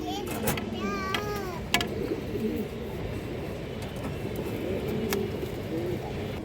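Pigeons offered for sale give soft cooing calls and chirps amid a busy outdoor market, with children's voices and background chatter mixed in.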